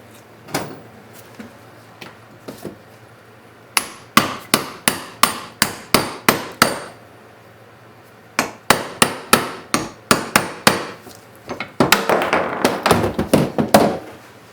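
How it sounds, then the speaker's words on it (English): Sharp metallic hammer blows knocking a bearing out of a Kubota U10-3 excavator track roller, rapid rhythmic bursts, dozens of close, loud knocks with short pauses between the runs. "You can just use the hammer and knock it out."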